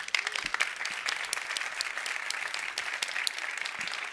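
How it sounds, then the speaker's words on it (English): Sustained audience applause for Princess Beatrice at a Women4Tech business event, a dense, steady clatter of many hands clapping for the whole stretch with no break. "Another round of applause, please, for Princess Beatrice."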